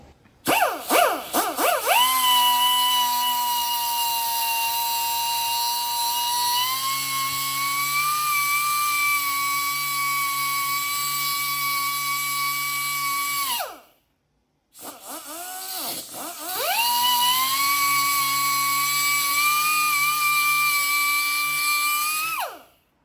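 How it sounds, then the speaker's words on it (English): A high-pitched cutting tool whines steadily while cutting studs off a 1971 Datsun 240Z during restoration, its pitch shifting under load, stopping briefly then starting again for a second long cut. "So I'm going to cut the other 2 studs off and then weld the plate on."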